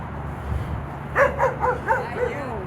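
Dogs giving a string of about five short, high yips and whimpering barks in quick succession, fairly close and moderately loud, following a brief stretch of low background noise.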